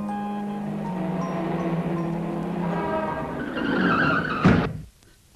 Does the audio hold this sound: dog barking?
no